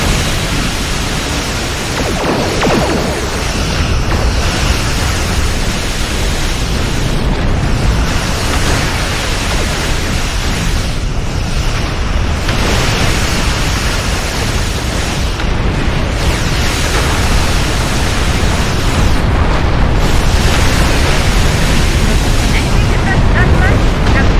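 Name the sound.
starship weapons fire and explosions on defense outpost, video game Star Trek Online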